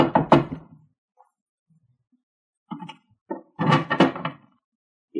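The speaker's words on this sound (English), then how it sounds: "The waiter rapped on the door." A radio drama sound effect of knocking on an iron door at the top of a narrow staircase: a short cluster of sharp raps, a pause, then another burst of knocks, close and dry against near silence.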